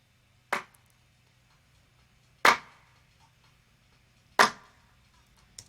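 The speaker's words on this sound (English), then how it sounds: "nice dry cymbal claps" Dry cymbal claps in an electronic music production, three sharp isolated hits spaced about two seconds apart, crisp and close over a faint steady hum.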